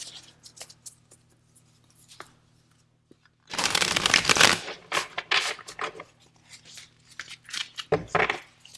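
Tarot cards handled and drawn from a deck: soft paper slides and taps, then a loud close burst of riffling and shuffling, followed by scattered flicks and slaps of cards, with no talk.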